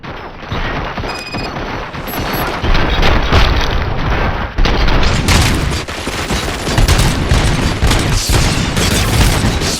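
A dense gunfire volley from the video game RoboCop Rogue City: loud, overlapping shots and booming impacts that pour continuously through the whole stretch, close and heavy, with no pauses between bursts.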